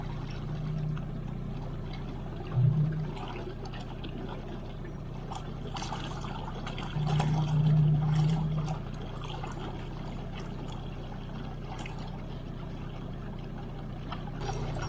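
A boat engine on a lake hums steadily at a low pitch after the throttle opens, with a couple of swells in loudness, under light splashing water.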